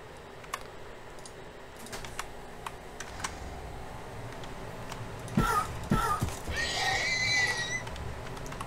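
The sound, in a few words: horse neighing in the Minecraft video game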